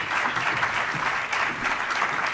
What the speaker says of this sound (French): On les applaudit pendant qu'ils se mettent au pied du podium